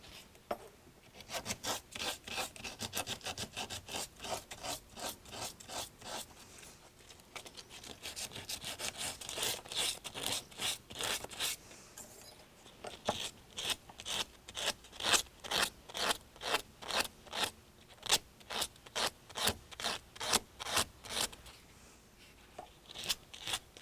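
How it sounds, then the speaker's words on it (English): Sanding a metal bear-and-cross jewelry piece near the tang, a rapid rhythmic rasping of back-and-forth strokes, close and fairly loud, speeding up into distinct pulsing strokes toward the end, with no voices. "Make sure you sand that area where you have the tang."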